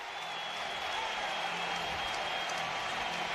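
A baseball stadium crowd keeps up a loud, steady roar of cheering and clapping, a continuous wash of noise with no break.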